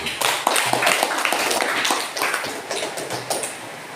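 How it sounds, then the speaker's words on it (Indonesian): Students in an Indonesian classroom clap together in a dense burst of hand claps, steady and fairly loud across the whole moment. "Oke, tepukan dulu."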